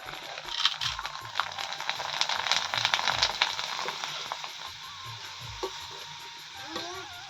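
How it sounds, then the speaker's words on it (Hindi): Potato chips deep-frying in hot oil for Holi snacks, giving a steady close sizzle with scattered crackles and light clinks, fading somewhat toward the end, no talking. "इतने चिप्स मैंने तल दिए हैं और लगभग हो ही जाएंगे"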